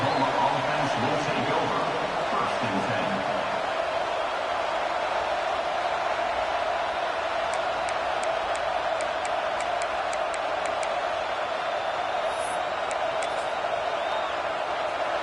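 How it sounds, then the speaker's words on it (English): A college football stadium crowd roars steadily throughout, a broad sustained wash of cheering heard from within the stands, with a commentator talking over it at the start. "This crowd ready to make its presence known."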